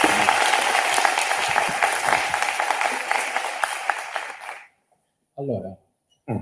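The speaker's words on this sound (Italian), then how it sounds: "applausi" Audience applauding at a book presentation in Cagliari, dense clapping with sharp individual claps for several seconds before fading out, followed by brief bursts of speech after a short silence.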